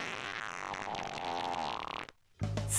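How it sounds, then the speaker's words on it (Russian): A cartoonish fart in a Minecraft animation plays as a long, loud, buzzing blast that stops abruptly into near silence. A short, loud burst of noise follows at the end. "Чувствую очередной пердеж на подходе."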